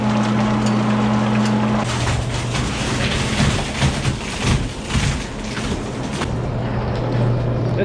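A silo cleaning machine rotates inside a farm silo, giving a steady mechanical hum with grinding, knocking and scraping bursts in the middle, loud and close.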